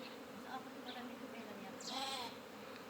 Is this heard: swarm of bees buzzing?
yes